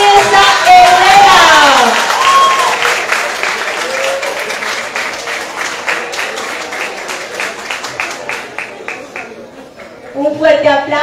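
Crowd cheering and applause for the newly crowned winner of the Señorita Villa del Rosario pageant, loud at first and then settling into steady clapping, with a host's voice coming through over it near the end.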